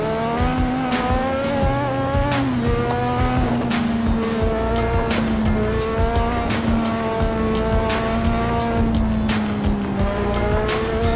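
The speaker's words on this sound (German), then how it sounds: "Driften mit dem Formel 1 Wagen." Lotus 98T Formula 1 car drifting in the racing game Assetto Corsa, a loud, steady, high-revving engine whine with shifting pitch and continuous tire squeal, close and without speech.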